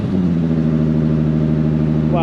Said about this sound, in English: One car turns on.